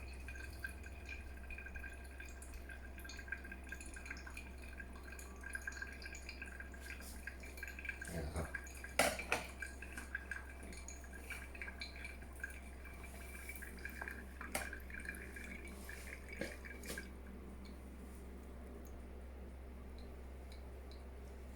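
Water is poured slowly over drip coffee, giving a faint, steady trickle with soft drips and a few light clinks of glass or kettle, under quiet room noise and occasional speech.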